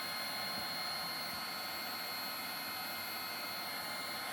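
A cordless heat gun blows steadily while shrinking heat shrink over a rebuilt 24V wheelchair battery pack, a continuous even fan-and-air whir with no variation and no talk.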